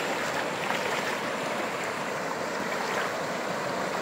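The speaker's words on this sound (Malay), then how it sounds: "Okey, kita sekarang berada di sungai." River water rushes and churns steadily at a sungai, a broad continuous wash of flowing stream noise close by with no voices.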